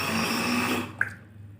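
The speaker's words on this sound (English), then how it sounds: "we can see that water is going through this pipe" Water rushing through a pipe, driven by a solar-powered BLDC motor pump in a hybrid model setup, a steady close watery hiss with a short drip-like blip near the end as the flow fades out.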